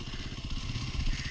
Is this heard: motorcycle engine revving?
yes